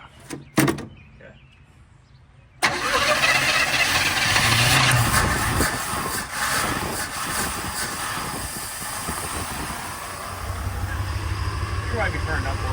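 Abandoned 1971 Chevelle Malibu, left sitting over 20 years, its engine catching after a few quiet seconds and settling into a loud, rough, shaky idle that rises slightly, with people talking over it.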